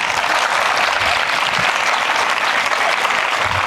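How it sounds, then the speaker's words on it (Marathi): Audience applause at a school memorial event with a drawing competition, sustained dense clapping from a sizable crowd, loud and even from start to finish. "आवडली असली तर एखादी टाळी वाजवा"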